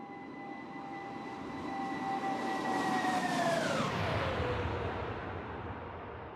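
A simulated Airbus A330-900neo in X-Plane 12 sweeps past in a flyby, its steady jet roar swelling to a peak as whining engine tones bend downward with a clear Doppler drop, then easing away, with no talking.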